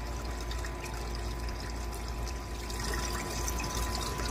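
Water from a small garden pond feature trickles and splashes steadily into a pool below, a constant close wash of liquid sound with no talk over it.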